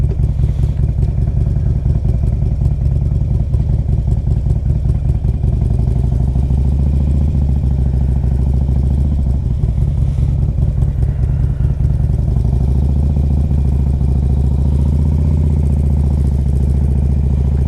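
A Harley-Davidson Street Glide CVO motorcycle engine rumbles loudly and steadily during a test ride, a deep, close, continuous throb with a slight shift in pitch partway through and no speech.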